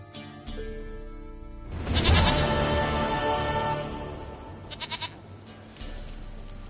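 A goat bleats in The Witcher video game, loud wavering cries rising suddenly after a quiet start, followed by a few short pulsed bleats, with no speech.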